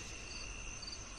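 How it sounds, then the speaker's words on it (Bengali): Crickets chirp at night in a continuous, even drone of high trilling, faint and distant, with no other sounds present. "ঝিঝি পোকার সাথে শোনা যাচ্ছে দূরে কোনো কুকুরের কান্না"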